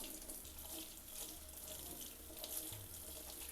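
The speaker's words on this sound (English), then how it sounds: "So I'm just gonna rinse this off in some cold water." Frozen whiting fillets rinsed under a cold kitchen tap, a continuous hissing stream of running water into a sink, fairly faint and steady with no talk.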